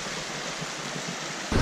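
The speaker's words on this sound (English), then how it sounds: "We're at the top of the waterfall now, as you can see." Waterfall at the top of Walton Glen Gorge: a steady broadband roar of rushing water with wind buffeting the microphone, rising into a louder rumble at the end.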